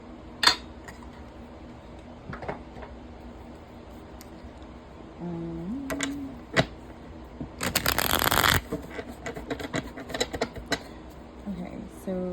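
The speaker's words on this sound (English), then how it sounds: "I'll pull some cards on it now" Tarot cards are shuffled and pulled, with scattered soft flicks and taps and a dense riffling burst in the middle, then lighter card handling toward the end.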